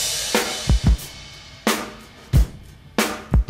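A mixed drum kit run through parallel compression, with a punchy, snappy snare cracking over thudding kick hits in a steady groove, loud and up front with no talking.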